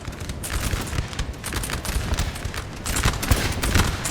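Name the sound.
musket gunfire in video game Napoleon Total War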